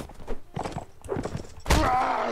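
Hooves thud in uneven, clip-clopping beats during a horse charge in Mount & Blade, then a sudden loud clash breaks in and sustains, all close and fairly loud.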